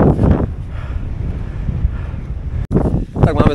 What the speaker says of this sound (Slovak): Tak máme za sebou nejakých 15 km, fúka nám vietor